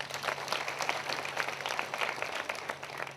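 A congregation at a prayer meeting in Ghaghra claps together in a steady wash of applause for a few seconds, fairly even in loudness with no talk.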